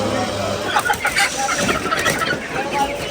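Chickens cluck and fuss at a busy poultry market where broiler and native birds are sold, a steady jumble of short calls close by under people talking and bargaining.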